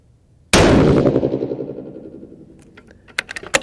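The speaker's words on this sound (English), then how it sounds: "First of 10 shots." A single loud 6.5 PRC rifle shot firing 147 ELD bullets cracks sharply, then rolls into a long echoing decay outdoors, followed by a few faint clicks and taps.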